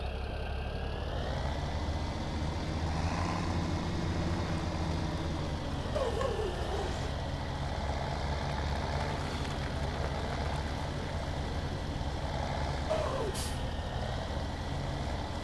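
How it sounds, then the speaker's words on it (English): A Farming Simulator 17 tractor runs with a steady, loud engine drone, holding even throughout, with a faint hiss of air and brief mechanical clunks along the way. "Time to move the tractor again."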